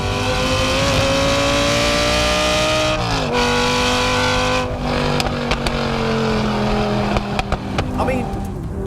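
A Lamborghini Gallardo SE V10 engine with a racing exhaust and Inconel pipes wails loudly with rising and falling pitch, the shriek sharpening as it accelerates, with short sharp bursts near the end.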